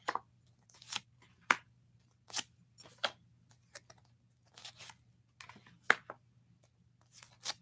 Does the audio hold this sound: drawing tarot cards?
yes